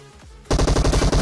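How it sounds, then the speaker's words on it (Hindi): A rapid burst of automatic gunfire in PUBG Mobile, about ten loud, evenly spaced shots in quick succession following a brief quieter lead-in. "बंदा खतरनाक फ्री फायर दे रहा है यहाँ पे।"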